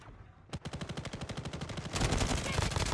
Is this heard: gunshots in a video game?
yes